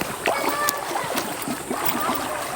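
A small boat crossing a river toward Barangay Kabangahan, with steady water wash and splashing along the hull, continuous and close.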